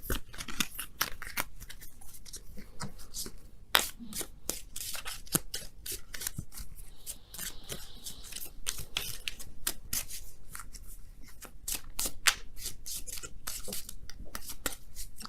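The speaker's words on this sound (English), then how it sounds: "Now we're going to go ahead and pull you guys your oracle cards for the week." Oracle cards are shuffled and pulled by hand, giving a steady run of close, crisp card snaps, slides and riffles over about fifteen seconds.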